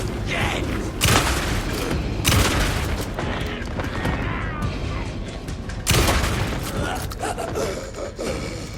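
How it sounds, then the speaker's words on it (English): Shotgun blasts in the video game Alan Wake 2, a few loud sharp booms spaced seconds apart among clattering combat noise, with a voice speaking over the gameplay. "You are getting the shotgun treatment."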